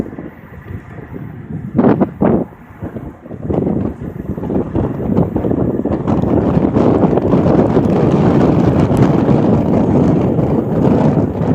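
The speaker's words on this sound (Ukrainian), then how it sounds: "Якщо вітер сильно буде бити, вибачаюсь, я вітер не можу зупинити." Strong wind over a salt lake roars and buffets the microphone, building to a constant loud rush after a few gusty bursts, with no voices.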